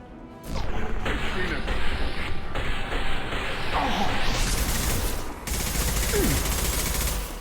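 Crates blowing apart under gunfire in Mass Effect 2, a dense, loud wash of shots, crashes and bursts running almost continuously, with a brief dip near the end before the barrage resumes.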